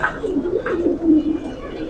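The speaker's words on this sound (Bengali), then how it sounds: "এই যে ধরলাম কবুতরের বাচ্চাকে" A young pigeon chick coos repeatedly while held in hand for feeding, the soft throaty calls close and steady over about two seconds.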